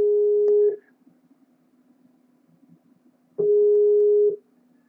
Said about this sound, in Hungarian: Csörög már.